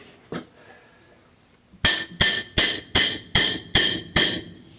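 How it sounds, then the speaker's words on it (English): A hammer whacking a bicycle part to press it onto a Terry bike frame: one lone strike, then a pause and a run of seven evenly spaced, loud, ringing metallic blows, close by. "It usually takes a few whacks, and the tone will change."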